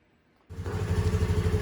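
Small 2022 Honda Navi motorcycle engine starts up and idles with a steady low rumble, moderately loud and alone after a quiet half-second, following an air/fuel mixture adjustment.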